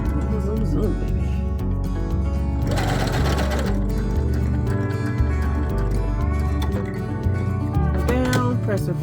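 A sewing machine stitches fabric from a sheet and pillowcase in quick rhythmic bursts, pausing briefly and then running again, with close, busy mechanical chatter.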